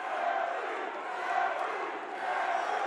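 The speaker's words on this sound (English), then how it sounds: "You listening to this crowd? Yeah. It is deafening in here. And it's a tug of war of cheers." Dense, roaring crowd cheering inside an MMA cage-fight arena during a title bout, loud and sustained throughout with shifting swells of noise and no clear single voice.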